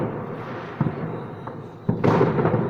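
New Year fireworks burst outside a window, with several muffled distant thumps and crackles over a steady background rumble.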